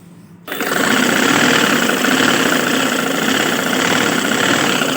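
A sewing machine stitching a fabric neck seam starts up abruptly and runs as a loud, continuous mechanical whir with a rapid needle rhythm, close to the microphone.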